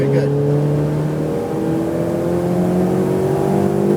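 Ferrari 488 Pista engine accelerating hard on a race track, a loud, steady rising roar with climbing harmonics throughout, heard from inside the car.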